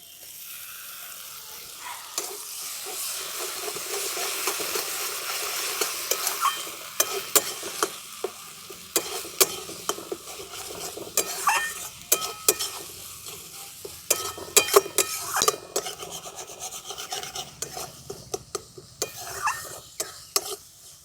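Masala fries in a pan with ground coriander leaves for a katla fish dish: a steady sizzle broken by frequent stirring scrapes and utensil clatter against the pan.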